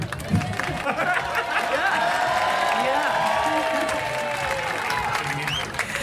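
A festival crowd at a live podcast recording applauds and cheers, a dense roar of clapping with whoops on top. Voices talk and laugh over it throughout.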